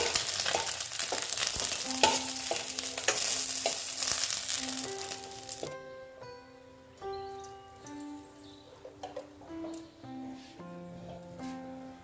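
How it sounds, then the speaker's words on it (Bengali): Small tengra fish fry in hot oil with a dense, steady sizzle for about six seconds before it cuts off, leaving soft background music tones playing on alone. "এই মাছগুলো ভেজে নিচ্ছি"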